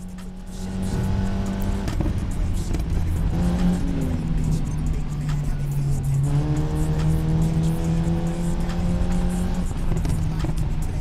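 A Volkswagen Golf GTI engine roars steadily inside a tunnel in the racing game Need for Speed Payback, its loud reverberant drone shifting pitch as it revs and changes gear, with a brief rising shift in the middle.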